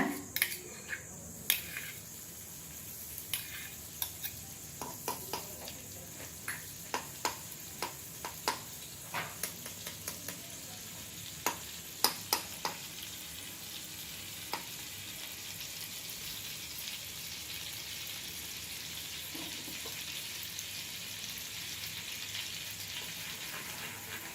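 Butter melts in a pan for paneer butter masala, a soft, close sizzle with scattered crackling pops that settles into a steady faint hiss.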